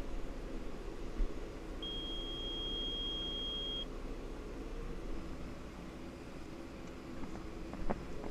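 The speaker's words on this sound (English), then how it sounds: "That's the check engine light, and it's beeping." Warning beep from a check engine light, a single steady electronic tone held for about two seconds over constant loud engine and wind rumble.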